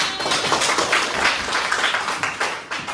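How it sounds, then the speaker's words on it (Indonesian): A small group claps hands together in a steady, continuous burst, close and fairly loud, with no talk over it. "tepuk tangannya"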